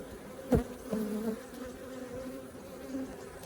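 Honeybees buzz around a Flow Hive in a steady low drone, with a louder burst as one flies close past, then the hum settles back to a faint continuous background.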